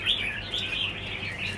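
A caged red-whiskered bulbul from northwestern Vietnam sings close to the microphone, giving a steady run of bright, warbling chirps with no pauses and no voices.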